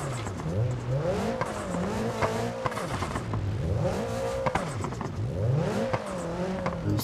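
A Peugeot 405 in the BeamNG.drive game drives off-road on a wet, slippery road, its engine revving and falling in repeated cycles at moderate volume, with faint tire noise and no talking.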